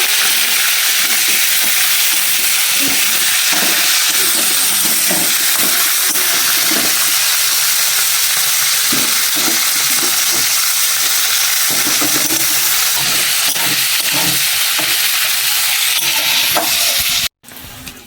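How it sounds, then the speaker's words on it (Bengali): Chicken pieces fry loudly in a pan for momo filling, a dense continuous sizzle with repeated scraping stirs throughout, close and without talk, cutting off abruptly at the end. "চিকেনটা ভালো করে ভেজে নেব।"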